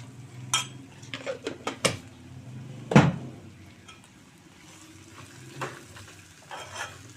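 Broad bean and tomato curry with coriander powder being stirred in a pot, a spoon scraping and clinking against the metal in scattered strokes over a faint sizzle, close and fairly quiet.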